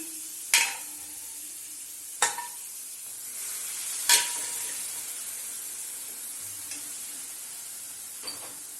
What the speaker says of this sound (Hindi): अब इसमें हम दाल डाल देंगे जो बॉईल करके रखी हुई थी।